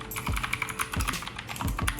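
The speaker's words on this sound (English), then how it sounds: "the sound of these blue switches is so good" Typing on a Keychron K2 V2 wireless mechanical keyboard with lubed blue switches produces quick, crisp clicks in an uneven rhythm. The keystrokes are close and clear, with no voices.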